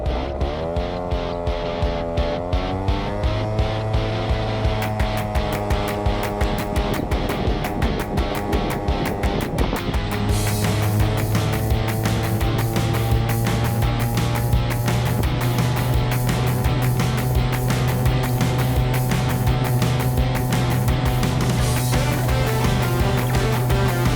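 A 49cc scooter fitted with a big bore kit rides at speed, its small engine buzzing loud and steady throughout with rising pitch as it accelerates, plus continuous wind noise.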